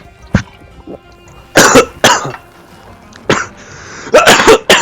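Several harsh coughs from someone commentating a match, sharp bursts spaced irregularly with a tight cluster near the end, close and loud against a quiet background.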